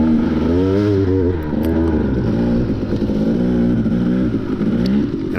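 A KTM 250XC two-stroke dirt bike climbs a left turn out of a creek on an off-road race course, its engine loud and close, revving steadily with the pitch rising and falling as the throttle works.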